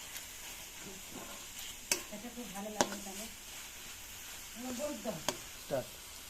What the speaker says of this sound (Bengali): এবার চিংড়িগুলো কচু ডাঁটার মধ্যে মিশিয়ে নিচ্ছি